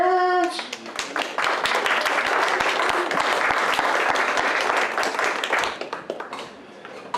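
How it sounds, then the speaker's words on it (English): A comedy show audience breaks into loud, sustained applause for a comedian, dense clapping filling the room for several seconds before tapering off, with faint voices mixed in. "Please, big round of applause for Mr. Jones."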